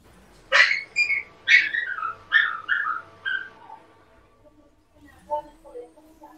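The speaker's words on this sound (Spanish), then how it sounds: "Porque están llorando mis perros." Dogs whine in a series of high, plaintive cries that slide downward, several in a row close by, then fade before a softer whimper returns.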